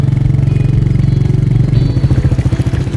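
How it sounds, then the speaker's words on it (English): A Royal Enfield Meteor 350 single-cylinder cruiser thumps through its exhaust close and loud, a rapid, even beat that loosens into slower, heavier pulses toward the end, with no talk. "it's a signature engine sound, a very signature exhaust note"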